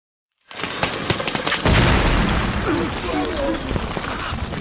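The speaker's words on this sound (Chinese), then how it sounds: "这种果实在成熟期极易发生爆炸" In a jungle film scene, a ripe prehistoric exploding fruit bursts with a sudden loud boom that breaks into a dense crackling, rain-like rush of debris, sustained and close.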